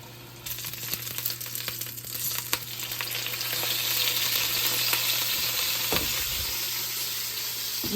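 Veal shank searing in a hot pan for a ragu, a steady frying sizzle that builds and holds, with scattered crackles and a few clanks as the meat settles, no voices.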